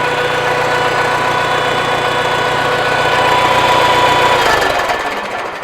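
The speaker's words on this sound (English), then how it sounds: "So that whining here is the hydraulics, and that's typical of a Farmall." A 1973 IH Farmall 140 tractor runs with a steady, loud hydraulic whine over the low idling engine, then the engine note drops away near the end.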